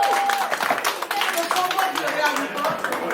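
An audience at a Nepalese cultural and musical evening in Oslo claps in a steady patter of applause, moderately close, while a voice talks over it throughout.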